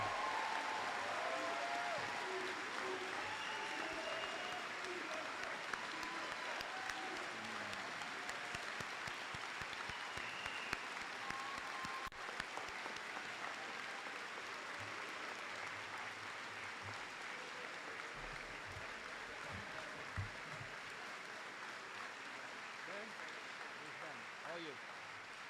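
The audience at a Class of 2023 high school commencement ceremony applauds for the graduates. The clapping is sustained and dense and fills the whole stretch at a steady level.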